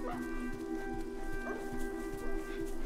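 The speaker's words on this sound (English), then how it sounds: "There's dogs down there." Dogs barking in The Last of Us Part II video game, several short yips and whimpering barks at a distance over a steady low game drone, with a faint voice in the background.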